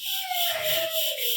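Blood fry with egg being stirred in a pan, a short, soft scraping and rubbing of the spoon against the pan with a faint sliding tone, heard alone.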